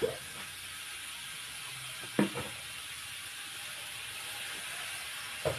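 Vegetables stir-fried in a pan in a home kitchen give a steady, bright sizzle and hiss throughout, broken by a few brief scraping stirs.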